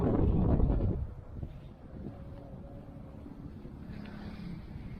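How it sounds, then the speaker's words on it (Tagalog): Strong gusts of wind buffet the microphone at first, a heavy rumbling roar that eases into a softer, steady outdoor whoosh, in a lahar-covered area in Zambales, Philippines. "Ang hangin dito."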